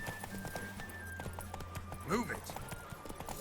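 Rhythmic clip-clop of a horse galloping in a race in the video game Witcher 3, steady hoofbeats under game ambience with a short whinny-like cry and spoken voices over it.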